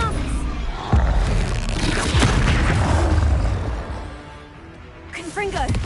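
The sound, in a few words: Expelliarmus spell cast in the video game Hogwarts Legacy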